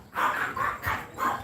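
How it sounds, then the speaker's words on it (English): Dogs bark in a residential back street in Thailand, four quick, fairly close barks in a steady rhythm with no voices. "Hope those dogs don't come out."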